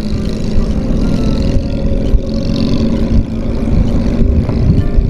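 A modified Benelli EVO PE250 motorcycle on a night group ride roars loudly and continuously at full throttle, with a dense, steady engine drone and no pauses.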